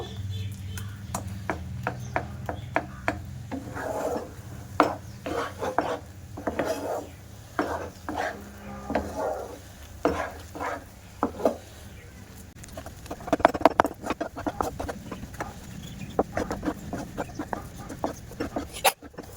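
Semolina dough being stirred and cooked in a pan with a little white oil, a steady run of scraping and tapping of a spoon against the pan, moderately close, with no talk.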